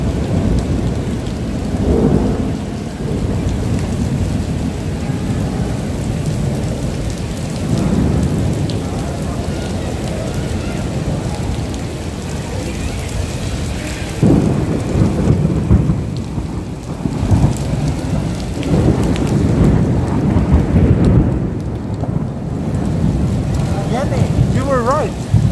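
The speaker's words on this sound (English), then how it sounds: "storm is probably just right above us now" Heavy thunderstorm over Tokyo streets with pounding rain and hail hitting surfaces, a loud continuous roar broken by rumbling thunder, with a person talking intermittently over it.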